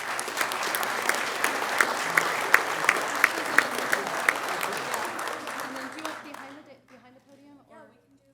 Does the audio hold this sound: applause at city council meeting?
yes